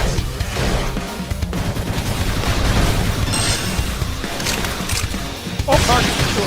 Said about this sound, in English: They'll topple them with some gunfire.